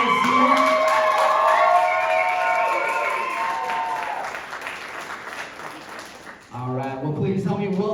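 A stand-up comedy class show audience cheers and applauds for the comedians, loud sustained clapping and whoops that gradually thin out and fade, with singing or calls riding on top and a voice coming in near the end.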